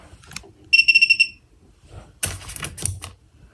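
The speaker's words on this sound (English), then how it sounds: "We are on system test 10 of the Snap Circuits fire alarm system." A Snap Circuits toy fire alarm system sounds a rapid burst of high, evenly spaced electronic beeps, loud and close, followed by clicking and handling noise from the circuit board.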